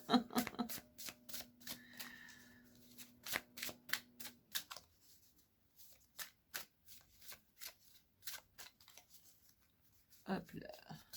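A deck of oracle cards being shuffled by hand, a run of crisp, quick riffling flicks and taps, close and fairly quiet, with a brief voice near the end.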